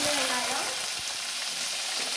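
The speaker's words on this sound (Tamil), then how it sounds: "சின்ன வெங்காயம் வதக்கி" Oil sizzles and crackles steadily in a pan as shallots sauté, a dense continuous frying hiss with a faint stir near the start.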